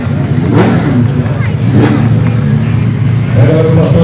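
A car launching down an airport-strip drag race course at a Fernandópolis racing event, a loud engine roar with two surging revving bursts, and a voice speaking over it.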